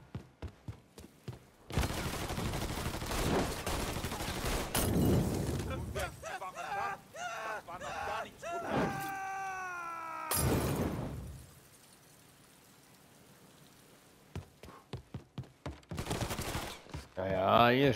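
Bursts of gunfire in the video game Mafia III arrive as loud clustered volleys and scattered single shots, with a long quieter gap midway and sharp impacts near the end, among other game noise.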